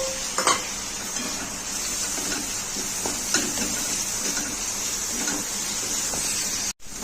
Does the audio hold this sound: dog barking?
no